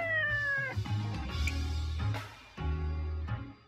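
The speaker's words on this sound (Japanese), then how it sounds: "何がニャオーだ。" A cat in the Nights of Azure video game gives loud, near meows, several drawn-out, wavering cries in succession, with game music or ambience faintly beneath.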